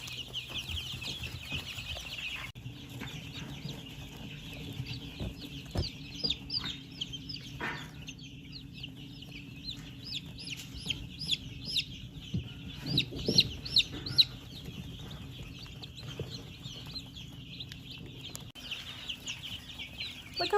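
Newly hatched chicks and young chickens under a heat lamp keep up a steady chorus of high, rapid peeping and cheeping, with soft clucks and light rustling underneath at a fairly low level.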